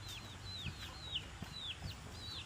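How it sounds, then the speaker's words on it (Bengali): Small chicks peeping in a village yard, a steady run of thin high chirps repeating every fraction of a second, fairly faint over low outdoor background noise. "মুরগির বাচ্চা, কি সুন্দর মুরগির বাচ্চা, ছোট ছোট।"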